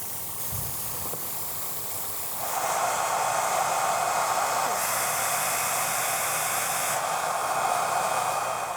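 A hair dryer blows steady, loud hissing air over fresh clear coat on a painted Borderlands Unkempt Harold prop, starting softer and then jumping to a stronger, constant rush.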